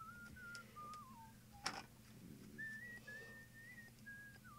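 A person whistles a soft, wandering melody over quiet room hum during a tabletop card game, with one sharp clack breaking in partway through.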